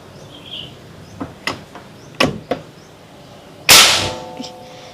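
Shot from a Pasopati Big Game PCP air rifle: a sharp, loud crack with a short ringing tail, preceded by a few lighter clicks and taps from handling, close up and without voices.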